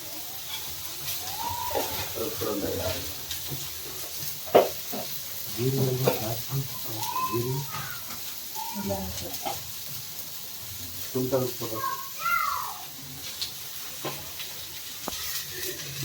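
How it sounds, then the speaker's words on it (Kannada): Green chillies and black pepper frying in hot oil in a pan for egg curry, a steady close sizzle with stirring scrapes throughout while a person talks over it. "ನಾಲ್ಕು ಮೆಣಸಿನ್ಕಾಯಿ ಚೆನ್ನಾಗಿ ಫ್ರೈ ಆಗಲಿ"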